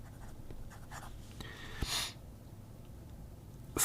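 A Wing Sung steel fountain pen with a fine nib scratching across paper, faint soft strokes with a brief louder scrape midway and another at the end.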